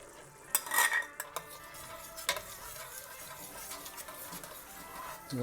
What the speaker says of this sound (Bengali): আমাদের মশলাটা কষানো হইতেছে, তো এখানে দই দিতে ভুলে গেছি, তো এখন দইটা দিয়ে দেব।